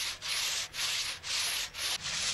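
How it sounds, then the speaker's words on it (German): A hand saw cuts through a fresh tree trunk about 20 to 24 inches thick, held on two sawhorses with clamps, to make 15-inch pieces. Five steady, loud rasping strokes, each with a short pause, and no talking. "Der Stamm wird nun in 15 Zoll breite Stücke gesägt."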